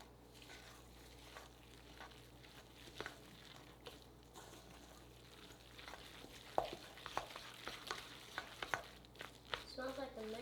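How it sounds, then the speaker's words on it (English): Corn fritter batter being stirred in a bowl, soft wet scraping and sloshing strokes, faint and close, with sharper clicks of the utensil growing more frequent toward the end. "And we mix."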